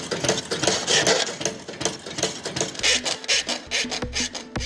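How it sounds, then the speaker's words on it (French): A pedal-powered scroll saw with a fine spring-tensioned blade cuts a stencil, giving a steady, rapid rasping and rubbing rhythm with knocks, loud and close, with no talking. "la lame est fixée avec un système de ressort qui va lui actionner la fine lame de scie au rythme de mes jambes"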